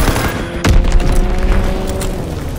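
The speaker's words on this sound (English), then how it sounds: "Enemy bomb incoming! Get to cover!" A heavy bomb blast booms in Call of Duty WW2 multiplayer, a deep thud that swells and rumbles on over dense battle noise.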